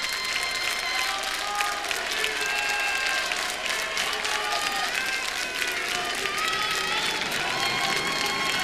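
Steady, dense applause from a concert audience for a singer fills the whole stretch, a continuous crowd clatter with faint cheering beneath, fairly distant and without distinct voices.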